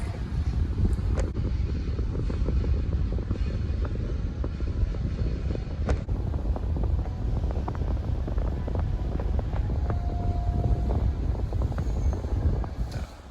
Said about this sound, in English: What's all this wind blowing?